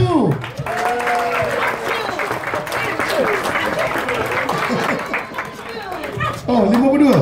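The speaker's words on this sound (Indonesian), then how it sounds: "Tepukan yang paling hebat untuk pemain drum kita" A concert crowd claps and cheers for the drummer at a show. The applause is loud, dense and sustained, with a voice speaking over it at the start and again at the end.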